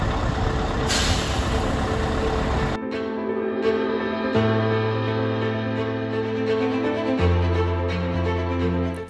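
A heavy truck delivering a 13-tonne, 60-foot steel narrowboat shell hisses loudly with an air brake release, then settles into a deep, steady diesel idle with shifting engine tones.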